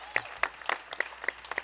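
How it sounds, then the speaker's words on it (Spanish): A small audience claps sparsely at a live unplugged Christmas concert in Boaco, Nicaragua, a few scattered hand claps over about two seconds, quiet and somewhat distant. "Eso se merece un fuerte aplauso, damas y caballeros."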